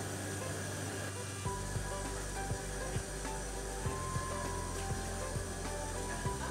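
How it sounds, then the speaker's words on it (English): Carbide-tipped bandsaw blade on a Velox 250 NC saw cutting 304 stainless steel, a steady loud grinding whine with faint periodic ticks as the cut proceeds, no voice over it. "We're trying to cut this piece of 304 stainless today"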